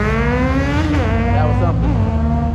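A Chevrolet Corvette C7 accelerating hard past onlookers at a car meet, its loud, close engine note climbing and sweeping down as it goes by.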